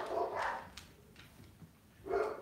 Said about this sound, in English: Now our dogs are barking.